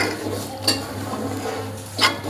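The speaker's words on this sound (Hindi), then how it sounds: "इसमें आपने जब चावल ऐड कर देने हैं तो आपने साथ साथ चम्मच हिलाते रहना है" A metal spoon stirs rice into kheer in a cooking pot, giving two sharp scrapes against the pot over a low steady hum, with no voices.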